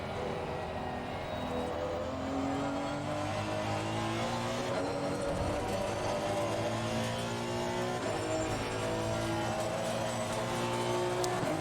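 A race car laps Silverstone in Assetto Corsa Competizione during a regional endurance race, its engine droning steadily and climbing through gears at moderate level, with rising and falling pitch sweeps as it shifts and brakes.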